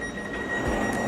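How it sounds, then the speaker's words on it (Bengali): A train pulls into a German railway station, heard as a steady low rumble of rolling stock with a faint high tone running over it, fairly close and continuous, with no talking. "আরও একটা ট্রেন ঢুকলো।"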